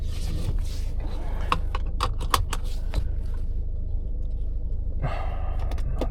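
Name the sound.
BMW 5 Series car driving on a test drive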